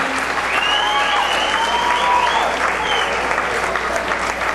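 An audience applauds at an evening event honoring kids in a boarding house mentoring program. The clapping is loud and continuous, with cheers and whoops rising above it, and it holds steady throughout.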